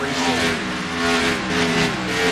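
Stock cars roaring around the banked oval at Bristol Motor Speedway during a race, a dense continuous engine drone with rising and falling pitch as the pack passes, loud and steady throughout.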